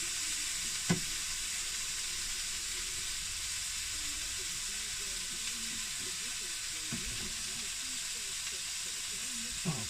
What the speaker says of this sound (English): I do like the onions and that to release a bit of the moisture out of them. Keep them frying.